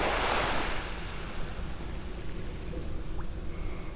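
Gentle surf washes in on calm water at a North Naples beach, a soft wave surge fading into a steady low rush with some wind buffeting the microphone, no voices.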